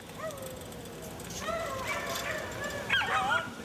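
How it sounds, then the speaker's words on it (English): A small pet mongrel dog cries in short, high whining yelps, moderately close, spread in several bursts over a low background murmur. "Suddenly we hear a dog crying."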